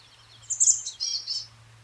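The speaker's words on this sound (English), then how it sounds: "Oh, that sounds like it's saying its name. Black cap chickadee." Black-capped chickadee in Alaska giving a short, high call of a few quick notes within about a second, clear and close against quiet background hum.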